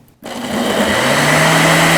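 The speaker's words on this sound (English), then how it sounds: "I'll place it on my blender base, lock it in, and then let it blend" A blender starts up abruptly after a moment of quiet and whirs loudly and steadily, blending a strawberry cottage cheese smoothie, its motor pitch settling as it runs.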